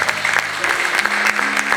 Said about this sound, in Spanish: exaltemos aún a su nombre con un fuerte aplauso al Señor